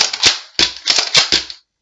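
A Nerf Cyclone Shock blaster fires five sharp, snappy shots close by, each a quick click-thump burst with a short airy tail, unevenly spaced over under two seconds.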